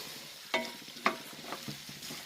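Tomato and potato sauté in a pan for an egg curry, giving a soft sizzle broken by a few sharp scraping stirs of a spoon, fairly quiet with no talk.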